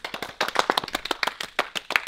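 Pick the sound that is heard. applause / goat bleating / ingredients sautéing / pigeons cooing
applause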